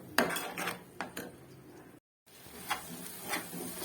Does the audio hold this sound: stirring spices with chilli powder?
yes